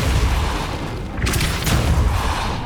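The Depulso spell is cast in Hogwarts Legacy, giving a loud booming blast with a whooshing burst over a dense, continuous game soundscape.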